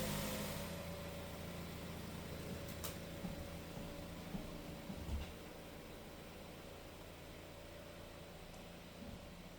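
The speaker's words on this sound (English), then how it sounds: "Turn the engine on and slowly reverse back out." A 2020 Toyota Corolla engine runs at a low, steady idle while the car slowly reverses off ramps, a faint constant hum with occasional soft knocks and creaks.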